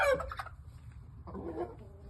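Imported shamo and yamato gunkei game fowl give short gobbling, clucking calls in two bursts, close by, with no talk.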